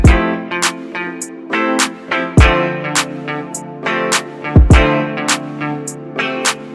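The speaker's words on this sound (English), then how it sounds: "I got the kicks, and I got just the claps" Laid-back R&B drum pattern with steady hi-hats, deep booming kicks and sharp claps. The beat loops cleanly and loud, with no voices over it.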